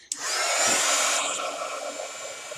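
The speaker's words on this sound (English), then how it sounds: "we also need to take the time to heat set this ink, so I'm going to do that real quick" A heat tool heat-setting stamped ink on a craft project switches on with a click and blows a steady, loud, close airy whoosh with a high whine for a couple of seconds.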